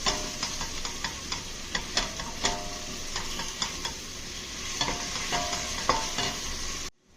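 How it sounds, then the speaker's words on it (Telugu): Ginger-garlic paste frying in a pan for tomato curry, a steady close sizzle with frequent light clicks of a spoon stirring against the pan, continuous for several seconds before cutting off abruptly. "అల్లం పేస్ట్ ఫ్రై అయింది కదండి"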